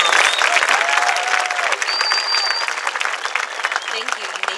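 Audience applause for graduating students at a 2024 high school graduation ceremony, a dense sustained wash of clapping from a large crowd in a hall, loud and continuous, with a few voices rising over it.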